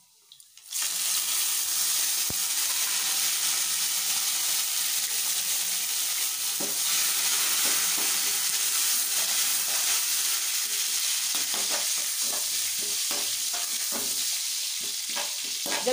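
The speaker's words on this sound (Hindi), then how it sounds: "ऑयल गर्म हो चुका है, तो हम इसमें जो है ये क्या बोल सौंफ ऐड करेंगे और कड़ी पत्ता" Fennel seeds and curry leaves sizzle loudly in hot oil in a pan, a dense steady crackle lasting many seconds with scattered pops and spatters, close by and with no talking.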